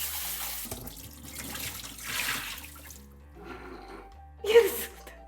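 Tap water runs in short, uneven bursts in a home kitchen while food is set to soak, with splashing that swells and fades and one sharper splash near the end.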